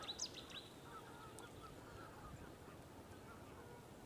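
Geese honking and calling at a distance at an RSPB nature reserve in the UK, mixed with faint chirping birds over a steady outdoor background; no one speaks.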